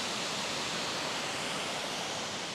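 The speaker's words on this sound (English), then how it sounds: "And the waterfalls flowing not too bad." A waterfall at the top of the falls above a fog-filled valley pours with a steady, dense rushing roar, continuous and fairly close, with no voices over it.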